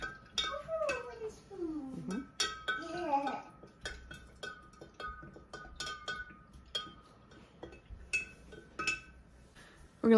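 Wooden spoon clinking against a vessel while stirring 85 grams of sugar into coffee for kombucha: repeated light, sharp taps and scrapes at an irregular pace, alongside intermittent talking.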